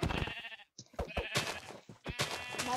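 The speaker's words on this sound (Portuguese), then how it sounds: "Vou matar essas ovelhas." Minecraft sheep bleating in version 1.9 gameplay, several wavering bleats in quick succession separated by short pauses, loud and close.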